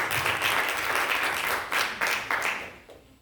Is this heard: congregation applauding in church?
yes